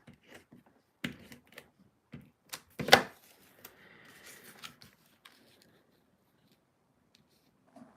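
Scissors snipping paper for a stamped craft project, several sharp isolated cuts and crisp rustles spread across a quiet room, one louder crunch midway, no talking.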